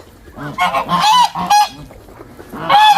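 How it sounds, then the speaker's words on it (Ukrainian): Several geese honk loudly and close by, overlapping nasal calls in quick bursts with short pauses between. "Гусочки гарні великі, такі чистенькі"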